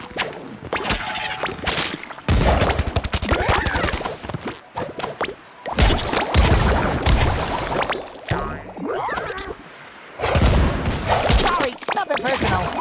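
Pirate cannons boom in repeated volleys during a battle in the SpongeBob SquarePants: The Cosmic Shake video game, with loud blasts, whooshes and cracking hits in dense bursts separated by brief lulls.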